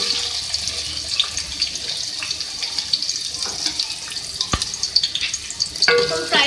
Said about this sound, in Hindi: ऑयल में सबसे पहले मैं प्याज डालूंगी।